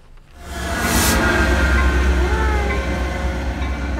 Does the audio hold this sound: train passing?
yes